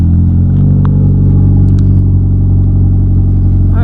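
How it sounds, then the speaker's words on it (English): Steady low engine rumble from a first-generation Mazda3 exhaust at the tailpipe, loud and constant, with a deep droning tone throughout and no voices. "Usually all of the noise would be coming out of the tailpipe."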